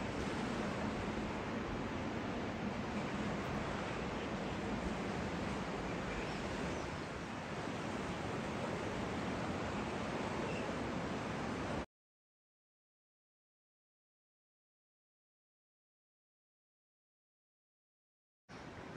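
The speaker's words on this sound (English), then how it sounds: "so waves are a bit higher, wind's about the same" A steady roar of wind and surf around a moored sailing catamaran fills the first part, broad and continuous, then cuts abruptly to silence before a brief return at the end.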